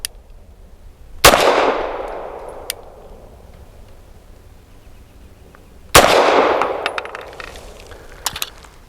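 Two loud, close pistol shots from an FB Radom Vis 100 M1 fired several seconds apart, each a sharp crack followed by a long fading echo, with faint clinks after the second.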